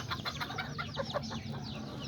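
Chickens and a big rooster clucking in a backyard flock, a steady overlapping chatter of short clucks and calls at close range with no talking.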